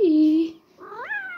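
A cat that wants to go out into a closed patio gives two close meows, the first falling and the second rising, with a short pause between them.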